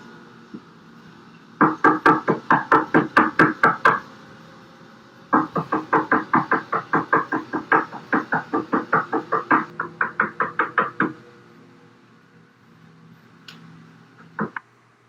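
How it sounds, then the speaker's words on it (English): Late-night knocking on a door: two long runs of rapid, evenly spaced raps, loud and close, then a pause and a final couple of isolated knocks. "Strange knocks on their door late at night."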